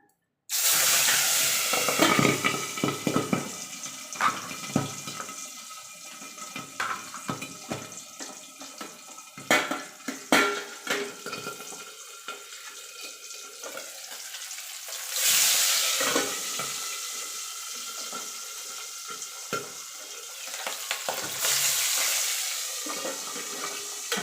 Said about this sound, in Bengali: এপিট ওপিট করে লাল লাল করে ভেজে নেব